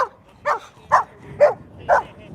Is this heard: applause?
no